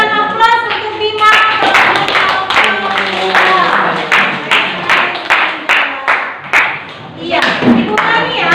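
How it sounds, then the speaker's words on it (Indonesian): Students in a classroom clap for a classmate named Bima, with several bursts of hand claps rising and falling over a few seconds, mixed with voices talking across the room. "berikan aplaus untuk Bima"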